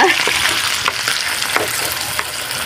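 Food frying in hot cooking oil, a steady loud sizzle and crackle with brief scraping stirs throughout, no voices.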